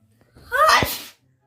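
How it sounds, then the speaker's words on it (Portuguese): A child with rhinitis lets out a sharp sneeze, part of an ongoing sneezing fit, preceded by a short gasping intake of breath; close and loud, with no talking. "ainda continua aqui espirrando da mesma forma"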